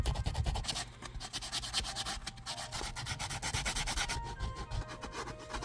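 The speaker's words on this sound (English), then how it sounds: "We're going to have to sand this out and smooth it." Continuous close rubbing and scratching of sandpaper as the legs of a handmade figure are smoothed, with rapid back-and-forth strokes and no talk.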